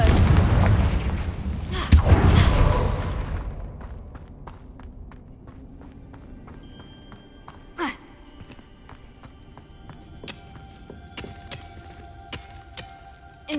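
A Confringo fire spell explodes in the Hogwarts Legacy game with a loud close boom, then a crackling fade, followed by sparse sharp impacts and chiming tones.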